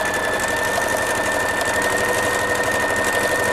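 A sewing machine running steadily while thread-painting long spiral stitches on a fancy winter apron, a fast continuous mechanical whir with rhythmic needle knocking, loud and close.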